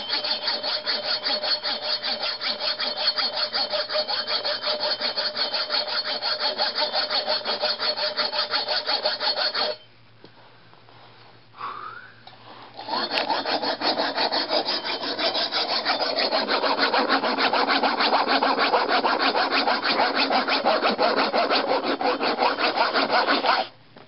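A hand saw cuts steadily through metal scooter handlebars, a loud, continuous rasping stroke rhythm that stops briefly near the middle, then resumes and runs on to the end.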